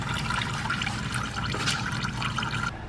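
Engine oil drains from a Camaro ZL1 1LE into a pan, a steady gushing, gurgling pour heard up close and fairly loud throughout.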